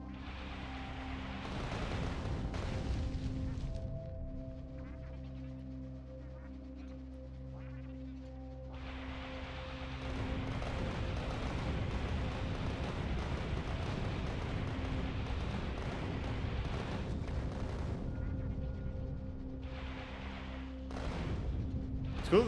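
Rocket turrets in Factorio firing and exploding on the icy planet Aquilo, a rolling series of booms and blasts with a sustained roar that surges and thickens midway, fairly loud and dense.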